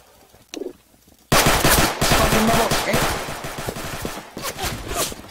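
Automatic gunfire in Garry's Mod during a Fidget Spinner RP session: a brief quiet pause with a soft thump, then a sudden loud, sustained burst of rapid shots that keeps rattling to the end.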